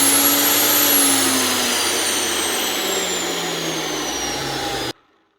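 A Dewalt DW707 miter saw motor runs loud and steady, its whine sliding slowly downward as it spins, then cuts off abruptly near the end.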